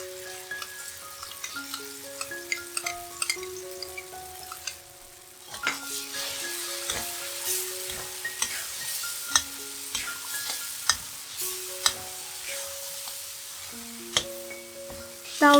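A vegan white sauce being stir-fried in a pan, with a soft continuous sizzle and repeated spatula scrapes and taps over quiet background music.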